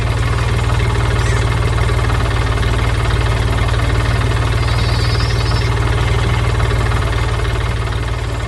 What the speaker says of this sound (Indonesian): Truk biru sedang berjalan, melintasi ladang hijau yang luas dengan suara mesin yang riang.